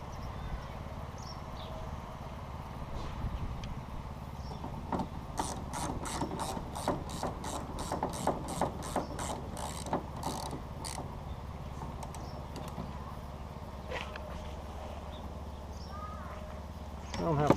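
A ratchet snugs down the windshield wiper arm nuts on a 2016 GMC Savana 2500 van during a windshield install, a quick run of evenly spaced clicks near the middle of the clip over steady background hum.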